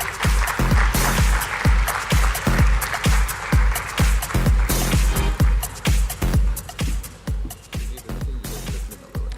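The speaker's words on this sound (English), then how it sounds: "A big round of applause, please." Applause from a conference audience at a fintech festival, dense clapping sustained throughout and loud, easing off slightly toward the end.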